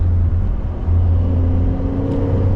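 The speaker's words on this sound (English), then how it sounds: "A little growl on the exhaust, but you really only hear the exhaust if you punch it." A 2024 Porsche 911 GTS in sport mode gives a steady, loud, low exhaust rumble with a continuous droning tone, heard from inside the car with no talking.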